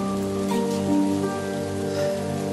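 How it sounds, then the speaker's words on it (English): Rain is played as a sound effect in a gaming commentary, giving a steady patter under a sustained musical drone, with no talking. "Can I get some rain, please?"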